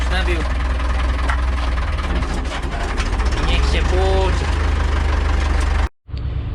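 An Ursus C360 4x4 turbo tractor engine runs in a steady, loud, low idle with a knocking rhythm, then cuts out abruptly near the end; someone speaks over it.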